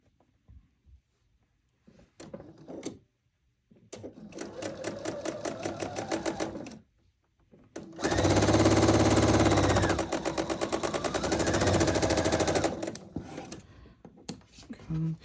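A domestic sewing machine runs in two sustained bursts while stitching the next side onto a quilt block, a steady rapid mechanical whir, louder and denser in the second longer run, with brief pauses and light handling noises between.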